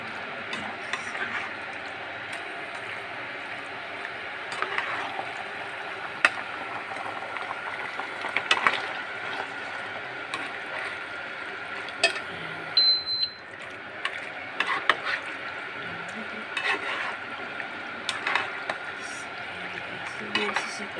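Penne regate pasta is stirred into meat sauce with a utensil, making steady wet scraping and stirring against the pan, with occasional clinks and a faint sizzle throughout.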